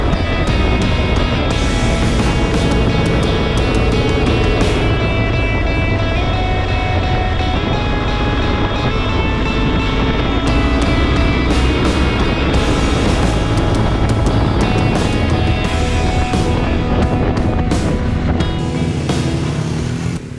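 Adventure motorcycles such as a BMW 1250GS, Yamaha Tenere 700 and KTM riding on a paved road, a loud continuous engine drone with wind rush that holds steady throughout.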